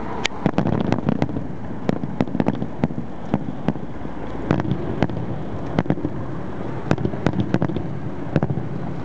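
Fireworks burst high over Xiluo Bridge during the 2012 Taiping Matsu aerial fireworks show: rapid, distant sharp pops and crackles in irregular clusters over a soft wind-blown background.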